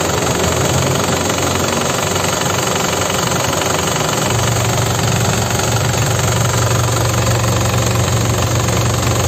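A 2009 Isuzu Panther Grand Touring diesel engine runs close up, a loud constant clattering knock that deepens into a heavier rumble partway through as it is revved.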